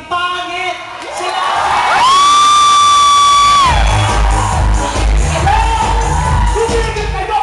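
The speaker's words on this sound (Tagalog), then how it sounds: "Pumalakpak po na may kasama ngayong nagsasabing pangit!" At a comedy bar show, an audience shouts and cheers loudly, with one drawn-out shout rising above the crowd before the clapping and whooping continue.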